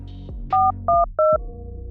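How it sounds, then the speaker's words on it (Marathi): Three short electronic keypad tones in quick succession, like buttons pressed on a phone, loud and close, over a low background hum. "त्याने सूर्याला फोन लावून पाहिला"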